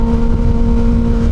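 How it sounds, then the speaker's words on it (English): A Kawasaki Ninja ZX6R 636 middleweight sport bike engine drones loudly and steadily at high RPM, its buzzing tone holding an even pitch over rushing wind noise. "this bike just wants to keep and keep and keep revving."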